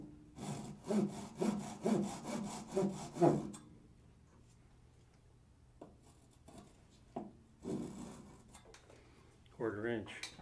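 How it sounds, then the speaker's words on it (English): A hand saw cuts a thin wood strip held against a stop block in Japanese kumiko woodworking: about a dozen quick, rhythmic rasping strokes up close, then quieter handling noises, with people talking. "the stop block and then the saw. So we make the first initial cut."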